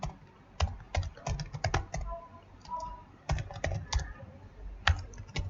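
Rapid typing on a computer keyboard in short bursts of clicks and key presses with brief pauses, close and clear, with no speech.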